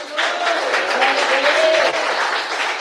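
A church congregation bursts into steady applause during a sermon, dense clapping from many hands with a faint voice or tone lingering underneath.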